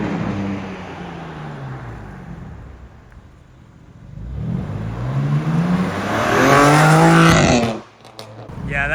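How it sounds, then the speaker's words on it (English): A BMW G82 M4 drives off from a driveway, its exhaust note building from a low rumble into a loud, rising rev with strong harmonic growl before cutting off abruptly, then resuming. "Yeah, that exhaust is out of this world."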